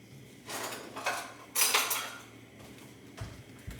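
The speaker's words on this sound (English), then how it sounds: "Let me grab a fork." Cutlery rattles and clinks as a fork is grabbed from a drawer in a home kitchen, a few close metallic jangles followed by a couple of dull knocks.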